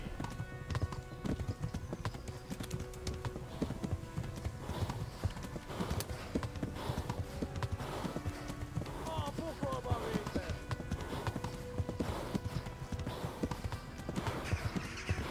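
Horse hooves clip-clop steadily in Kingdom Come: Deliverance, a fast, continuous galloping rhythm running the whole way, with game sounds and music layered underneath.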